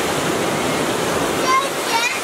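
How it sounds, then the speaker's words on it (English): A waterfall makes a steady, loud broadband rush of falling water, close by and continuous, with a voice briefly speaking over it. "Oh yeah, waterfall."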